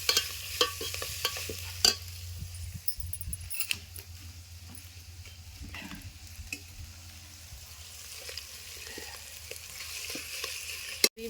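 Fenugreek leaves stirred into hot spicy oil, a steady frying sizzle broken by scraping spoon strokes and clinks against the pan, close and continuous without talk.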